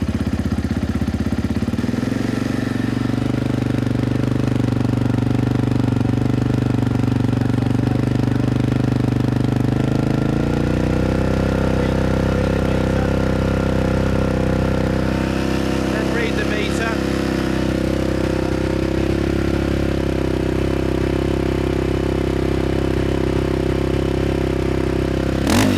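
A motorbike engine at the 2009 Weston-super-Mare beach race is revved for a noise test: a loud, sustained close-up drone that climbs to a higher, harsher pitch partway through and holds there.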